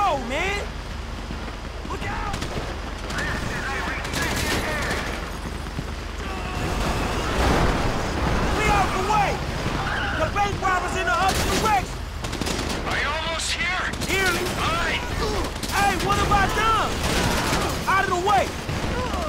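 Bursts of rapid gunfire and scattered shots crackle through a Grand Theft Auto V soundscape, with voices talking over the action.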